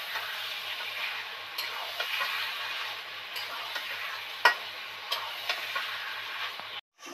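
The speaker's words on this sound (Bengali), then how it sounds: "দেখেছেন মাংসটা কিভাবে ভাজা হচ্ছে" Chicken pieces fry with spices in hot oil, giving a steady, close sizzle broken by occasional stirring clicks and scrapes, with no talk.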